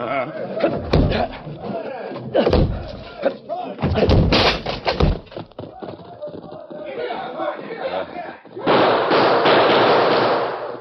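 Heavy thuds and bangs strike repeatedly against a locked door as it is broken down amid shouting voices and commotion, ending in a burst of crashing noise.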